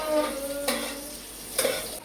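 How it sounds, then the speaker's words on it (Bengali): Onions frying with a little sugar for birista in a pan, a constant sizzle broken by a few scraping stirs of a utensil against the pan, close and fairly loud, no talking. "তাই হালকা করে চিনি দিয়ে আমি এখন বেরেস্তাটা ভেজে নেব।"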